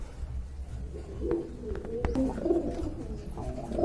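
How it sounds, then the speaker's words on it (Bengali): Pigeons coo softly and repeatedly at a pigeon market, their low throaty calls rising over a dull background rumble and a few scattered clicks. "এক জোড়া গড়া কবুতর দেখতে পাচ্ছেন"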